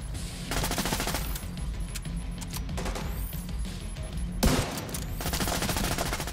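Sustained automatic gunfire from The Division 2 video game, dense rattling bursts of a machine gun that continue almost without pause for several seconds, loud and close.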